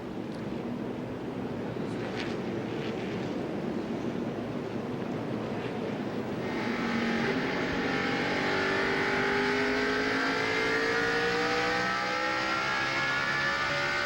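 NASCAR stock cars roar down the front straightaway at the 2002 Pontiac Excitement 400, a loud, continuous engine drone with rising and falling pitch sweeps as the cars pass by. No one speaks.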